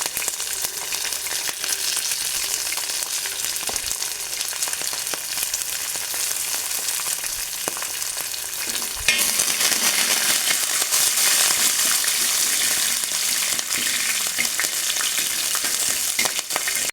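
Ginger, green chilies and curry leaves fry in hot oil for rava kichadi, a dense, steady crackling sizzle that grows louder and brighter halfway through, close up and continuous with no talking.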